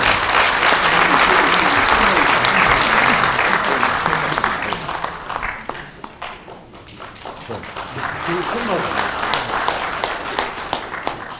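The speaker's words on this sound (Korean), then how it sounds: "큰 박수 부탁드리겠습니다" A large audience in a National Assembly auditorium applauds loudly for a speaker being introduced, the clapping dense at first, thinning midway, then swelling again.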